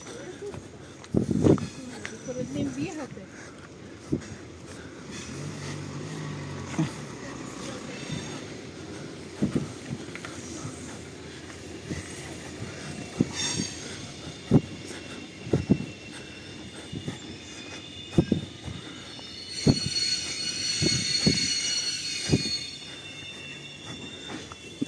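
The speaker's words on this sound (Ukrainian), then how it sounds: "А от потяг і прибуває." A Dnipro–Truskavets passenger train pulls into Truskavets station, its wheels clanking and squealing in repeated loud bursts over a steady rumble, with a busy crowd and talk around the platform.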